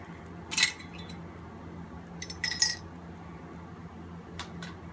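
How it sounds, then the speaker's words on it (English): Light glassy clinks and taps as glass test tubes are set into a beaker, a few brief bursts spaced apart over a quiet background hum. "I am going to be placing my test tubes into my beaker."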